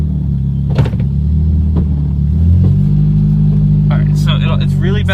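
A car with a suspected transmission, axle or differential fault rumbles steadily in gear, the low drone rising partway through, with scattered knocks and clunks over it and some brief higher whines near the end.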